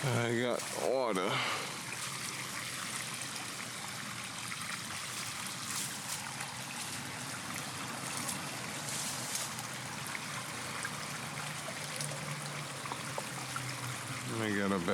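Water runs steadily from a reconnected pond pump and filter after a cleanup, a continuous close trickling and splashing flow that lasts throughout, with a brief handling clatter at the start.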